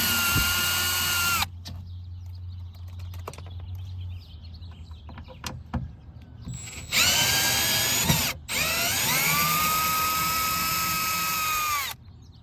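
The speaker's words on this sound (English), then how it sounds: "I recommend using this like a drill to get these out" A power drill whirs in long bursts removing long screws from a 2006 Acura TL door panel, pausing and restarting, its pitch dropping as it strains, with faint birdsong and small clicks in between.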